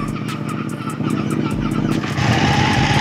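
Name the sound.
Ducati Panigale 1199 motorcycle engine started and running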